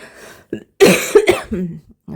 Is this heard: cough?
yes